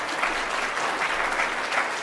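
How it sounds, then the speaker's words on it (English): Dense, steady applause from a conference audience at a CMT patient and family meeting, loud and continuous with no voices over it. "So everybody, give everybody a round of applause."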